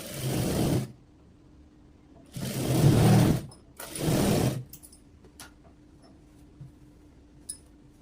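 A sewing machine stitches blouse fabric in three bursts of steady whirring mechanism, each about a second long, separated by quiet pauses with a faint hum and a few small clicks near the end.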